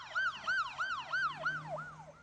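A fire truck siren responding to an apartment fire, about five quick rising-and-falling wails that repeat in a steady rhythm and sound moderately distant and faint.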